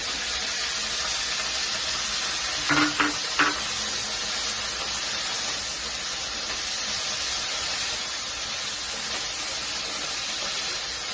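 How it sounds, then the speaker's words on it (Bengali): Chicken with chopped spring onion greens fries over low heat in a pan, a constant loud sizzle and hiss with a few brief scrapes of stirring near the start. "ভালো করে নাড়াচাড়া করবো। কম আঁচে হবে এটা।"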